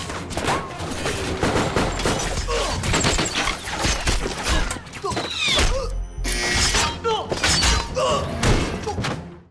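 Bursts of gunfire mixed with thuds, clanks and shattering, loud and chaotic, with brief voices in between.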